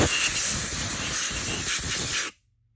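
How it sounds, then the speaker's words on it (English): Air blower gun blowing off freshly cleaned threads on an engine part, one loud continuous close hiss that stops abruptly into silence, no talking. "And then you get the blower and you blow the sun gun up."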